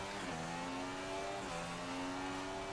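Race car engine from the F1 2016 racing game at the Brazilian Grand Prix, a loud steady high-revving whine with harmonic tones shifting in pitch as the car passes close by, continuous for about three seconds.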